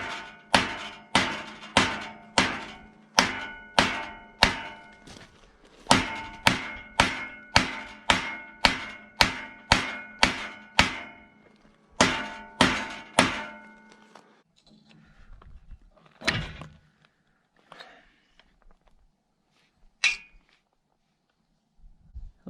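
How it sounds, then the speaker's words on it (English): A hammer strikes metal parts on a tilt trailer in steady, rapid rounds of loud ringing blows, close by, pausing briefly between sets before a few scattered, fainter knocks and taps trail off. "I think we had to hammer these in a little straighter too"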